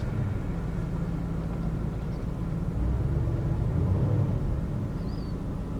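BMW X5 engine running steadily with a low, even rumble, then shifted into drive, the drone swelling slightly midway and staying constant throughout with no talk.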